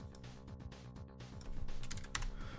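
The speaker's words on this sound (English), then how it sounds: "I'm too busy typing all this stuff and everything" Rapid clicking keystrokes on a computer keyboard during a Bit Heroes Quest game session, close and steady over a background of game music, growing slightly louder toward the end.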